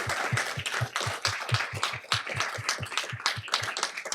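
An audience applauds the founders at a startup demo day with rhythmic, evenly spaced clapping that keeps a steady beat throughout, moderately loud and sustained.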